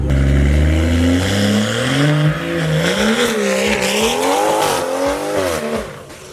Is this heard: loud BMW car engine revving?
yes